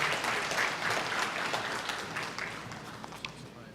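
Applause from diners at an interfaith banquet dinner, a crowd clapping steadily, moderately loud at first then gradually thinning and fading toward the end.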